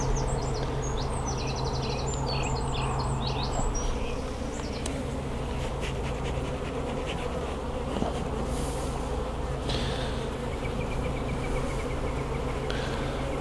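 Honey bees swarm at an open hive during queen-rearing work, making a dense, constant buzzing that fills the whole stretch, with a few bird chirps early on and no voices.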